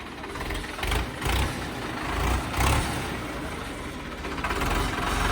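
A 5911 tractor engine revving loudly up close, a continuous diesel rumble that swells in several surges before settling into a steady roar, with no talking.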